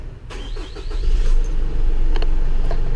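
A 2018 Isuzu NPR-HD with a 5.2L diesel engine cranks briefly and catches, settling into a loud, steady, close idle rumble with a few faint clicks over it.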